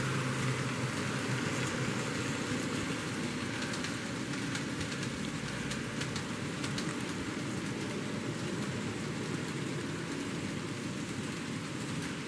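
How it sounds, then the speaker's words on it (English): A steady, dense rumble and hiss of an N-scale model coal train running continuously on Kato track, with fine clattering detail and no voices. "Hopefully catch that coal train again."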